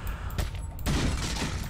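Shotgun blasts in the video game Resident Evil 4, heavy booming reports in quick succession with a loud broadband burst and dense rumbling tail, no speech.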